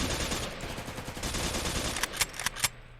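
Gunfire in a GTA multiplayer roleplay game during a raid, a dense stretch of rapid automatic shots with several louder, sharper bursts near the end.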